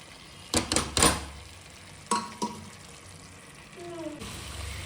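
Mutton added to a frying pan with paste, then stirred: a few sharp clattering scrapes and metal knocks over a soft sizzle, with a quiet voice briefly heard.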